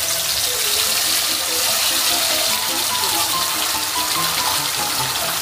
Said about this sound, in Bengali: গরম তেলে পোস্তটা ছেড়ে দেওয়া হচ্ছে।